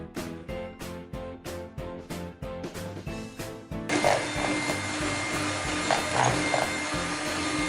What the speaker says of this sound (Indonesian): Kita kocok lagi hingga tercampur rata.